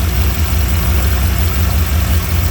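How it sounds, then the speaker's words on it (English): A 1992 Camaro RS with a 305 TBI V8 idles irregularly up close, a loud steady low rumble with an uneven, lumpy pulse and no voices. "Now it idles a little irregular"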